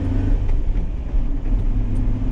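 A 2007 Jeep Wrangler Rubicon with a six-speed runs just after a cold start, a loud, close, rough low rumble with a faintly fluctuating throb and no talking over it.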